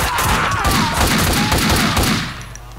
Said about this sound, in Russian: Кто-то наверняка слышал выстрелы.